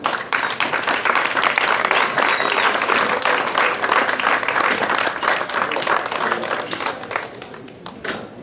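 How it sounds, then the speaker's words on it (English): A room of guests at a first-year anniversary celebration on St. Maarten breaks into loud, sustained clapping. The applause stays dense and even throughout, then thins slightly toward the end. "I believe they deserve a round of applause."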